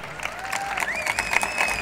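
An audience at a talk with a Mexican film director applauds and cheers, a short burst of crowd clapping with a whistle rising over it.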